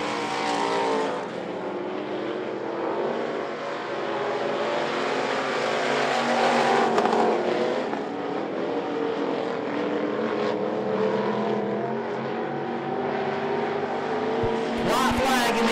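Race cars roar around the I-75 Raceway oval on the final lap, a steady loud engine drone with shifting pitch as the pack passes, with a track announcer talking over it throughout.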